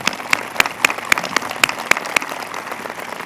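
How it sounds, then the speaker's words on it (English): Applause from a modest crowd at an outdoor war memorial dedication ceremony, with distinct individual claps standing out over a steady background of clapping that gradually thins out. "So I think they all deserve a round of applause."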